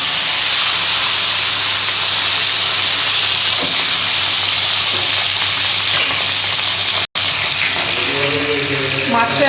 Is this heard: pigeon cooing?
no